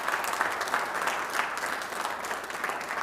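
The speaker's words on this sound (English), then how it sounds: "let's give a round of applause to both Dr." An audience at an economic outlook event claps in a sustained burst of applause, with dense, even clapping that continues throughout and no speech over it.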